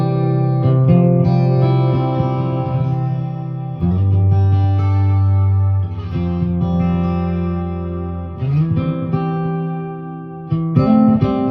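A PRS SE Hollowbody II electric guitar heard through its piezo pickup, with chords strummed and let ring in several phrases, carrying an acoustic-like tone with effects, delay and reverb, loud and alone.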